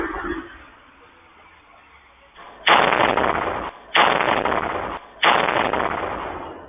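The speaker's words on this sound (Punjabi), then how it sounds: "ਇੱਕ ਧਮਾਕੇ ਦੀ ਆਵਾਜ਼ ਅਤੇ ਕੁਝ ਚਿੰਗਿਆੜੀਆਂ ਨਿਕਲਦੀਆਂ ਨਜ਼ਰ ਆ ਰਹੀਆਂ ਨੇ" Hand grenade blast at a house in Sector 10, Chandigarh, caught on CCTV: three loud, harsh bursts a second or so apart, each with a rough, sustained decay, following a quiet stretch of low ambient noise.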